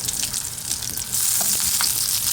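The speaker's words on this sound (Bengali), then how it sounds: "এগুলো শুধু তেলে ভাজবো" Ready-made nuggets fry in oil with a steady, bright hiss that swells slightly louder midway and carries on unbroken, with no voices.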